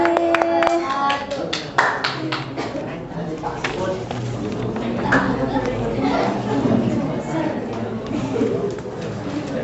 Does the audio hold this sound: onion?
no